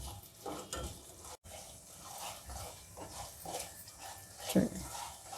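Curry leaves and spices fry in hot oil for a drumstick pickle, a steady sizzle with scraping stirs and a few pot clinks, close and moderately loud throughout.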